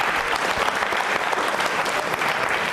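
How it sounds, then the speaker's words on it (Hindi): Loud, dense applause from a studio audience for Rohit Singh on a Rajasthan television quiz program, sustained and even throughout with no voices over it. "रोहित सिंह के लिए तालियां जोरों से बजाइए, जोरदार तालियां बजाइए"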